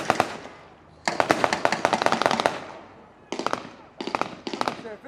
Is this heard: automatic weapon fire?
yes